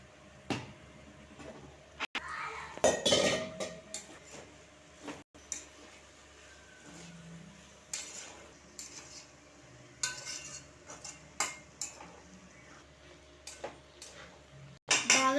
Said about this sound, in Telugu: సాల్ట్ వేసుకున్నాక ఒకసారి మిక్స్ చేసుకుందాం